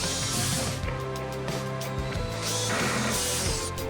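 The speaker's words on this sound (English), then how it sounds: "First I assembled the bed rail fittings to make sure that the frames are joined easily." Metal bed rail fittings being assembled on a wooden bed frame, with a loud, close, continuous mechanical whirring and ratcheting that pauses briefly partway through, with no talking.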